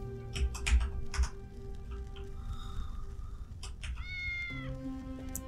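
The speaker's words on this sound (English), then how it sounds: "one of those biochemical cats" In the cyberpunk adventure game Tales of the Neon Sea, a cat meows in a couple of short, thin cries over soft ambient game music, with faint ticking clicks earlier on.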